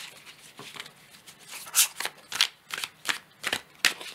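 Tarot cards handled and shuffled close by, giving a run of crisp riffling and flicking bursts roughly every half second, with no talking.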